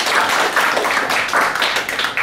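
Audience clapping in a meeting hall to welcome a speaker to the stage, steady dense applause from many hands lasting the whole moment with no talk over it.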